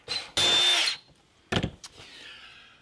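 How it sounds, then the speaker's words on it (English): A power drill bores holes into a metal car panel during a vintage air conditioning install in a classic muscle car, with two close, loud bursts: a longer run of about half a second, then a shorter one, separated by quiet. "Now I'm going to try to drill holes and connect the top and bottom."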